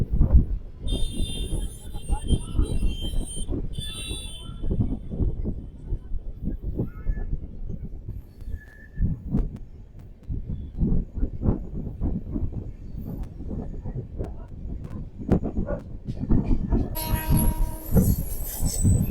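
The Prayagraj Fast Express stands at a station, with a low rumbling rail and platform din, scattered clanks and a high horn-like tone near the end, while someone talks over it.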